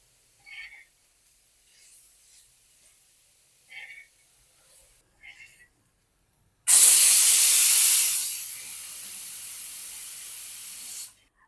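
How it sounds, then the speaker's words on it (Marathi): Onions roasting on a hot iron tava for a masala, a sudden loud hiss and spray of sizzling that starts abruptly after a few faint clicks and then settles to a steady, slightly quieter sizzle before cutting off. "आता आपण कांदा छान भाजून घेऊया"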